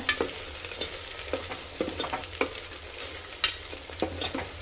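Ginger-garlic paste fries in a pan for a ridge gourd dal, a soft steady sizzle with repeated scraping stirs of a spoon against the metal, close and fairly quiet with no voices.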